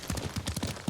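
Horse hooves clip-clopping in a steady, fast rhythm while riding in the game Ghost of Tsushima, close and fairly loud with no voices.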